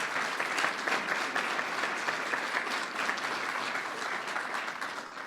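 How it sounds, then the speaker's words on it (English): An outdoor crowd claps steadily for an official at a speech announcing historic restoration funding near Niagara Falls, a continuous, even wash of applause without voices. "Let's give him a round of applause."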